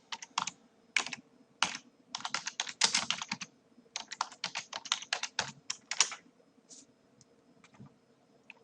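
Rapid bursts of typing on a computer keyboard, entering an answer in a vocabulary flashcard quiz; clustered key clicks in uneven runs with brief pauses, close and fairly quiet, with no talking.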